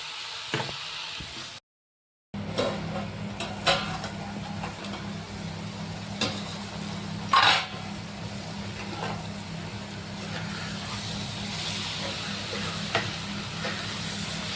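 Fresh jawla, tiny shrimp, sizzling steadily in hot oil in a pan with a steamy hiss. A brief silent gap comes near the start, and occasional clinks and stirring sounds are heard throughout.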